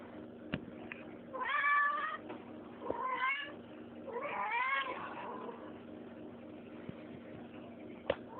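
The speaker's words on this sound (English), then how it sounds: "See, look at that cat. It won't stop." A kitten meowing repeatedly indoors, three drawn-out, insistent meows with short pauses between them, close and clear against a quiet background.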